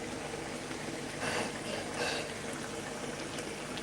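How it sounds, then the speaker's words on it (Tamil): Coconut milk pours into a simmering brinjal curry, a steady liquid trickle and splash with two brief louder swells over continuous bubbling background hiss. "வெந்துருச்சு இப்போ தேங்காய் ஊற்றலாம்"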